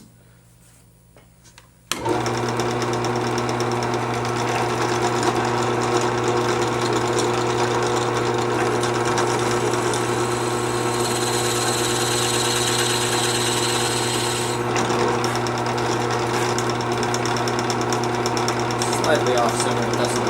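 A loud, steady power drill whirs continuously after a brief quiet start, its pitch shifting slightly midway as it bores into a wooden plane handle.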